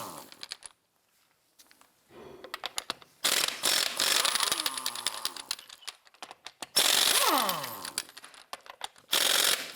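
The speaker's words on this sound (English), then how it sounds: "Using a 22mm socket, we're going to loosen and remove our lug nuts." A ratchet with a 22mm socket loosening lug nuts on a Cadillac Escalade, bursts of rapid close clicking separated by quiet gaps, with a few squeaky metallic whines as nuts turn.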